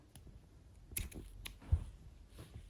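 Scissors snip yarn during crochet, giving a few faint, close clicks and small snips scattered through an otherwise quiet moment.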